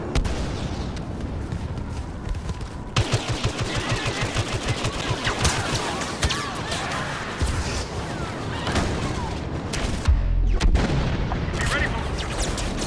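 A thermal detonator goes off in Star Wars Battlefront gameplay, part of a loud, dense battle din of booming blasts and rapid gunfire that rarely lets up, with one heavier blast near the end.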